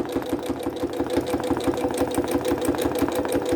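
A Janome 9450 QCP sewing machine stitches steadily during free motion quilting, its needle producing a rapid, even mechanical chatter up close and alone throughout.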